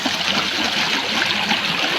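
A forest stream flowing over stones, steady babbling and gurgling water heard up close and fairly loud, continuous throughout without any voices.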